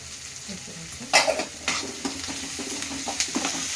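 Onions fry with salt in a pan, sizzling steadily up close while a spoon scrapes and stirs in a few irregular strokes, with no talking.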